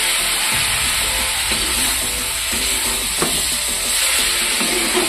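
A little water added to dhoka curry frying with potatoes, producing a loud steady hiss and sizzle with faint stirring scrapes and a few clinks, close up.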